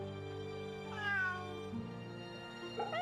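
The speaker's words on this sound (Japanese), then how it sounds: "猫だな。" A cat in the game Fate/Samurai Remnant gives two short, close meows over a steady game music background, with no talking.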